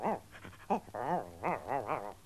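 A cartoon puppet dog from a 1955 children's television show yips, whimpers and barks excitedly in quick high-pitched bursts, loud and close, with no talk over it.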